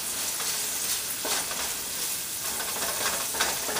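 Onions soften in a frying pan for a pasta puttanesca, giving a steady, close sizzle with soft crackles and occasional stirring scrapes throughout, and no voices.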